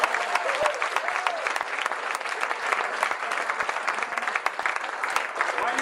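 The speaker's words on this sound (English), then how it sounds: "let's have a big round of applause for everybody in the room" A room full of people at a 49th Ward Democrats monthly meeting applauds, a dense, continuous patter of many hands clapping loudly for the full stretch.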